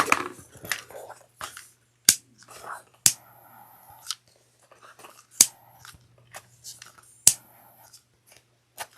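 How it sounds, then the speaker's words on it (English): Sharp scissor snips trim loose threads on a clear handmade bag, several crisp isolated cuts spaced irregularly and close up, with soft whispered talk in between. "Trim those threads"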